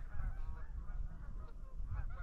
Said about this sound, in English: You can see overhead, we got some geese flying.